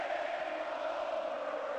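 A wrestling arena crowd in the WWE Mayhem mobile game roars as a dense, continuous wash of voices, loud and steady with no breaks across the short stretch.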